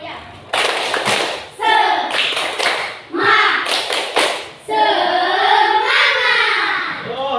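A group of schoolchildren in a classroom doing a rhythmic clapping chant, with bursts of claps and thumps between their sung words, close and loud.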